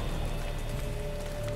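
Rain in the video game Witcher 3: Blood and Wine, a steady patter of drops on surfaces under a low ambient rumble, continuous and moderately close with no voices.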